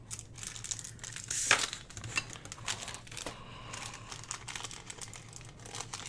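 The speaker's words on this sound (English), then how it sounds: "I'm going to go ahead and just put a couple of creases in here" Stiff, vellum-like paper is creased and folded close up, crinkling in dry rustles with one sharp crackle early on, then softer scattered crinkles.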